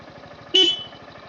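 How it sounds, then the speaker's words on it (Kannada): A short, loud, close honk from the horn of a Honda Robot-styled BS4 motorcycle, a single bright blast of about a fifth of a second over a low, pulsing idling engine. "ಆ್ಯಂಡ್ ಹಾರ್ನ್ ಕೂಡ"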